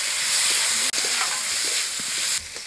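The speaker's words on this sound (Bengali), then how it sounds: "মশলাটা একটু ভাজিয়ে নিচ্ছি" Spices sizzling and frying in a hot pan while making poori aloo sabzi, a steady close hiss with faint stirring scrapes, then a brief cut and a softer stretch at the end.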